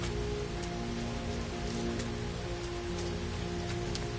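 Rain falling in the video game No Man's Sky, a steady close patter of drops on surfaces with scattered sharper drips, continuous and unbroken with no talk over it.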